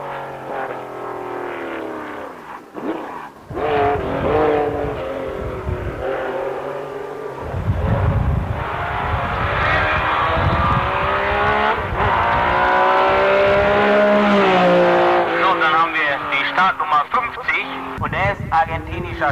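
A Porsche race car at a 1984 hillclimb in Höxter roars past, its engine loud and continuous as it accelerates and climbs in pitch, while a commentator speaks over it.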